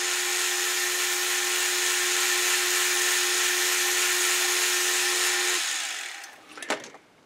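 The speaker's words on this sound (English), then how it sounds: "Just polishing this up a little bit." A threaded part is polished on a running machine, giving a loud, steady whirring hiss for about five and a half seconds before it winds down, followed by a brief clatter near the end.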